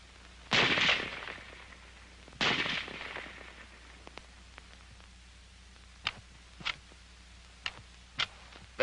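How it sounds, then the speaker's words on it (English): A 1943 M1 Garand .30 caliber rifle fires two loud, sharp shots about two seconds apart, followed by several quieter, crisp mechanical clicks and snaps from the action. "The rifle will fire each time the trigger is pressed until the magazine is empty."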